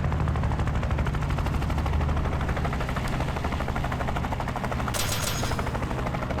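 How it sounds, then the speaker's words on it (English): A helicopter drops reinforcements in the video game Tactical Breach Wizards. Its rotor throbs steadily and loudly throughout, with a rapid, chattering, gunfire-like rattle on top and no voices. "Helicopter dropping reinforcements."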